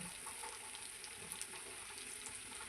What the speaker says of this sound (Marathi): इथे मी मच्छीच्या तुकड्यांना रवा लाल तिखट मीठ हे लावून घेतलेले आहे आणि आता फ्राय करणार आहे